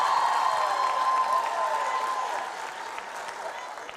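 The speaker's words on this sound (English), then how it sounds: "Clap, please." Audience applause that starts full and gradually thins out, a broad wash of clapping with a steady tonal hum running beneath.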